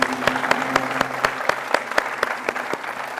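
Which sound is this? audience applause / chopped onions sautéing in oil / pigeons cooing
audience applause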